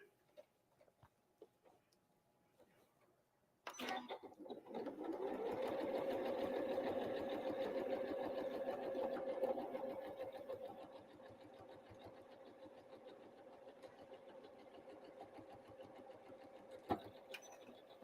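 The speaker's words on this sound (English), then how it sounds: "I'm just top stitching down the pockets here" A sewing machine top stitches pockets on an old-fashioned apron, starting abruptly and whirring at a steady fast pace for several seconds before slowing and stopping, close and clear, with quiet handling noises before and after.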